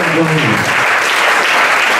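Church congregation applauding during a Sunday sermon, a loud dense wash of clapping, with a brief voice heard at the start.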